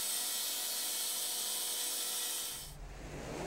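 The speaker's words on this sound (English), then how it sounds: "Using a self-propelled bandsaw, 1 inch is cut off the face of the old timber." Self-propelled bandsaw slicing an inch off the face of old reclaimed timber, a steady loud sawing whine that drops away near the end into low rumble.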